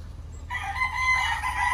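A gamecock rooster crows once, starting after a short quiet pause and holding a loud, drawn-out call close by, with no talking over it.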